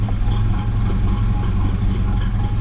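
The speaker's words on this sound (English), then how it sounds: "It's idling about 800 RPM" A 1978 Datsun King Cab fitted with a Buick V6 idles at about 800 RPM, a loud, close, steady low rumble with an even throb throughout and no talking.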